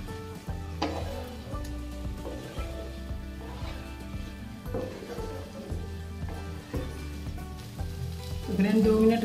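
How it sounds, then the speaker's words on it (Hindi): Paneer cubes fry and sizzle in a masala gravy for a restaurant-style matar paneer, a steady close sizzle with occasional stirring clinks and tonal hums running under it throughout. "इसे हम 2 मिनट तक भूनेंगे"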